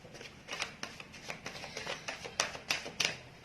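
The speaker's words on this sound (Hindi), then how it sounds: "आपके कार्ड्स में शफल कर रही हूँ" Tarot cards being shuffled, a run of crisp papery riffles and flicks coming in uneven bursts, close and fairly quiet, with several sharper snaps toward the end and no voices.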